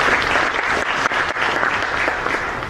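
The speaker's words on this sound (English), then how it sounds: "Would you guys give them a nice round of applause to welcome them?" A conference audience at a sport management summit gives a loud, dense round of applause to welcome panelists, a sustained wash of clapping throughout.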